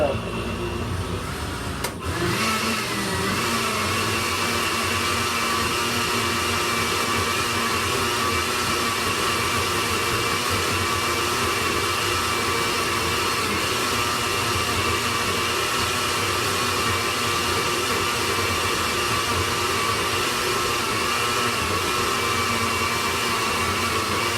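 Blender running steadily to mix eggs, a loud continuous motor whir with some rattle that sets in after a brief start and holds for the full stretch, with a voice speaking faintly beneath it.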